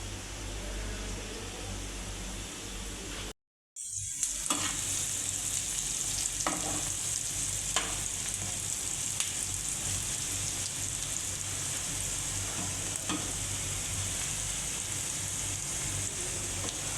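Masala spice paste for a tengra fish curry fries and is stirred in a pan, making a continuous hissing sizzle with occasional scraping clicks from the stirring and a brief cut near the start.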